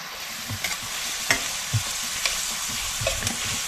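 Onions fry gently in a pan over low heat while being stirred now and then, a low, steady sizzle with a few soft scrapes and knocks nearby.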